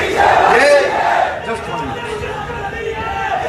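Crowd at a political rally chanting slogans together in loud rhythmic shouts, then fading into a murmur of general crowd noise.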